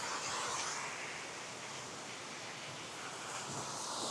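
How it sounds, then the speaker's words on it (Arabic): A natural waterfall pours with a constant broad rushing roar, steady and fairly close, with no break or other sound standing out. "شلال طبيعي"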